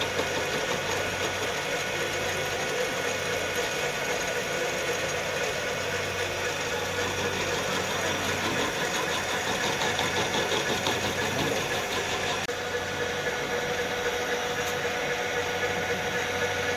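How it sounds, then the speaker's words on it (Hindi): A workshop lathe making an automatic cut, its lead screw turning under power, producing a steady continuous mechanical hum and whir at an even level throughout. "ये मशीन अभी ऑटोमेटिक कटिंग कर रही है। ये लीड स्क्रू रोटेट हो रहा है ऑटोमेटिक।"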